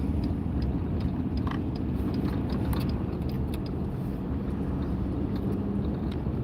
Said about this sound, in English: Just heavy traffic